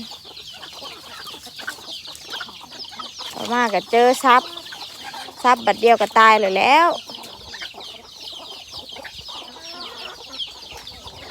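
Chickens cluck and squawk in several loud bursts on a farm where they are raised naturally, with someone talking over the quieter stretches.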